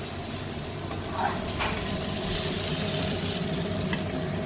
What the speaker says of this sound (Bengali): এখন সবজিগুলোকে ভেজে নিচ্ছি, তারপরে ডালিয়াটা দেবো।